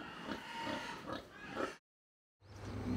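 Seaweed-fed pigs on a farm grunt and oink in several short, close bursts, then a moment of silence before the snorting resumes.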